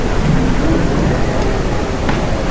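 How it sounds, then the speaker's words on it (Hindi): Heavy rain pours steadily in a video game, a dense continuous hiss with a low thunder rumble rolling underneath. "बहुत बारिश हो रही है।"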